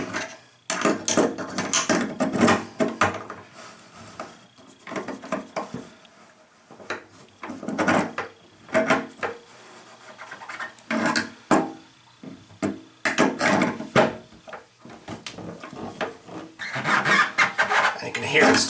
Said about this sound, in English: And you can hear it starting to compress that washer now.